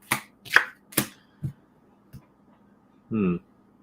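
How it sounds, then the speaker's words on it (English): Tarot cards are shuffled and slapped down one by one, a few crisp, close flicks and taps spaced apart, ending in a short riffling burst. "Let's throw some cards down for that."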